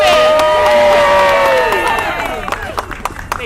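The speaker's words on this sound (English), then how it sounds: "Let's hear it for Speaker Johnson" Crowd at a health-care rally outside New York City Hall cheering, whistling and clapping for a speaker, a sustained loud burst of shouts and whoops that fades into scattered claps and calls.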